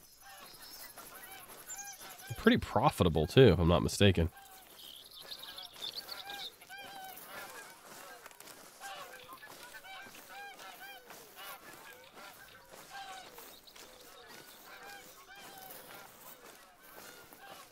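Geese in theHunter: Call of the Wild let out a loud burst of overlapping honks for about two seconds, then softer, scattered calls carry on under a man's speech amid quiet outdoor ambience.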